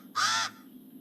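A single harsh caw from a pied crow, fairly close and loud, over faint background hum.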